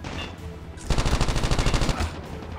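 A Type 25 rifle in Call of Duty Mobile fires one rapid automatic burst lasting about a second, loud over a steady game background.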